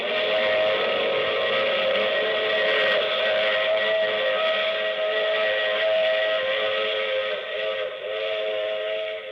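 A sustained train whistle sound effect in a 1951 radio drama, a loud steady multi-tone steam-whistle chord holding for the whole stretch with faint rail rumble beneath and no voices.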